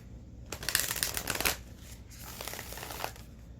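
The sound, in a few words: shuffling oracle cards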